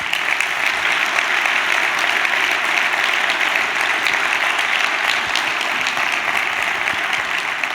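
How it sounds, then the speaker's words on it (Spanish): Audience applause fills a gala hall after a musical performance, a dense, steady wash of many hands clapping at even loudness throughout with no break. "Un aplauso para ellos."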